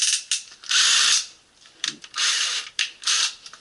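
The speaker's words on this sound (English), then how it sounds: "Taking your screws out." Screws being backed out of the agitator cap on a Maytag Bravo washer with a power driver, several loud whirring bursts in succession with short pauses between, close by and with no talking.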